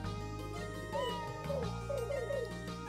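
A Suikoden game sound setting: mewing, cat-like chirps slide downward in a quick repeated run of four or five calls, bird-like, layered over steady game music.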